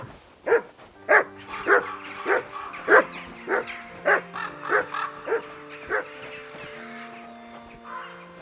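A dog barks in a run of about a dozen close, evenly spaced woofs, tapering into softer, more spaced-out barks toward the end.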